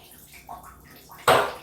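Water pours out in a short splashing gush while bottles are drained for beer bottling, a brief trickle followed by a louder rushing burst near the end.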